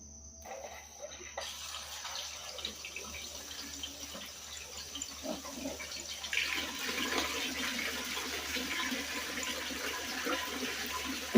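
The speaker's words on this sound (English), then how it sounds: "let me go ahead and kick the pump on here" A water pump runs to churn clay and sand with water, giving a steady rushing, splashing wash that builds gradually and continues throughout at a moderate distance, without talk.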